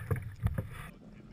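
A pedal kayak glides through the water while out trolling live eels for striped bass off Cape Cod, with a few soft sloshing strokes close by before the sound trails off into quiet.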